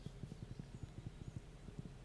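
A horse's hooves clip-clop steadily while riding in the farming video game Stardew Valley, a quick even run of soft thuds at low volume with no talk over them.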